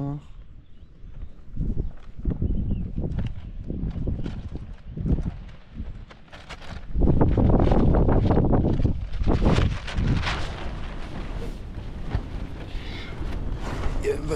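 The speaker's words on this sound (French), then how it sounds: "Il y a un vent de folie." Strong gusty wind buffets the microphone in heavy bursts at dawn on Mont Aigoual, with a person talking intermittently underneath the roar.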